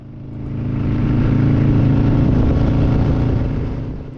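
Several motorcycles ride along the Auckland Motorway on a memorial ride, a steady loud engine drone that swells, holds and then eases slightly as the bikes pass, with no talking.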